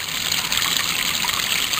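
Water runs steadily and fast from a faucet with a worn aerator, making a close, continuous hiss without pauses and with no talking.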